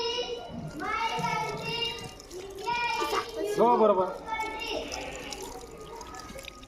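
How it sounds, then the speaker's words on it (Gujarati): Water is poured over children's hands during a school handwashing lesson, splashing and trickling under an adult's instructions and children's voices nearby. "બસ હવે પાણી રેડો."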